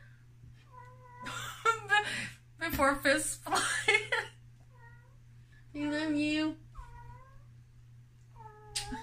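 A domestic cat meows several times indoors, its repeated calls rising between stretches of people talking and laughing nearby.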